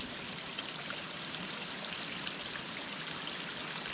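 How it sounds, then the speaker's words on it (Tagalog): Water from an old natural spring flows steadily in a rural field setting, a continuous, fairly close trickling stream with no voices. "Mga inumin po yan, bukal."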